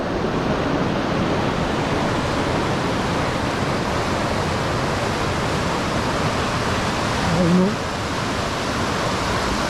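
A river rushes beneath a bridge along a mountain trail, a steady broadband roar of flowing water filling the whole stretch, with a brief faint voice-like murmur near the end.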